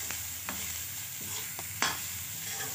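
Drumstick vegetable pieces being stirred with salt in a pan under a quiet continuous sizzle, with a few sharp spatula scrapes and knocks against the pan, close up and without voices.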